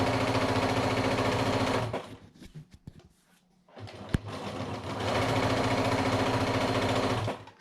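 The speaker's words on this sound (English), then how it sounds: "Just string piece them all at once. And then you can see how quickly they'll sew." A sewing machine chain-pieces quilt blocks in fast continuous bursts of rapid stitching, stopping for a couple of seconds with small clicks and handling noises before running again, close and alone.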